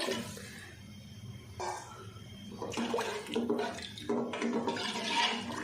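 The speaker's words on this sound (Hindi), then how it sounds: "और अब हम इसमें पानी डाल देंगे।" Water pours and splashes into a pot of lentils in uneven gushes, rushing louder toward the end, with no talking.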